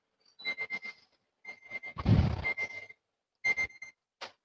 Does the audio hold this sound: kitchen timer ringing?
yes